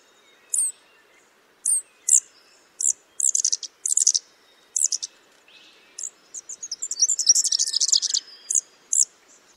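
Shearwater parent's distinctive call, the kind its chick learns to recognise: a series of short, sharp, high chirping notes in spaced bursts, then a denser run of rapid calls, clear and close with no talking.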